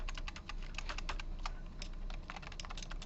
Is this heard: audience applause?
no